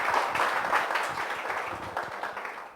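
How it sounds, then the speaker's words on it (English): Brief, fairly close audience applause for panelist Dr. Trusit Upadhyay at a university panel discussion, steady for under three seconds and tapering slightly. "Please give a huge round of applause for Dr."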